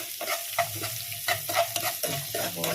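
Sliced onions sizzling and frying in ghee with cloves and cardamom for Kerala ghee rice, with a spoon stirring and scraping the pan in an irregular rhythm of soft scrapes over a steady close sizzle.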